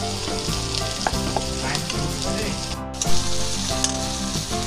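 Ginger garlic paste sizzles and spits in hot oil in a pan, a dense, steady frying crackle with occasional louder pops and stirring scrapes, close and continuous with no voices.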